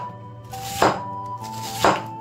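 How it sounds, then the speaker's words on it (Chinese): A knife slices a peeled yellow onion on a cutting board: two crisp, separate strokes about a second apart, close and clear over a steady, faintly tonal background. "放在案板上也切成片"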